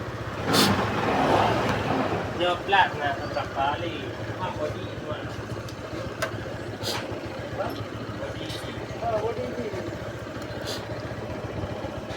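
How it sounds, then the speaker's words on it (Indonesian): A small, flood-damaged motorcycle engine, newly repaired, runs and revs unevenly close by, with people talking intermittently over it. "Hari ini kita sudah memperbaikinya, motor sudah nyala."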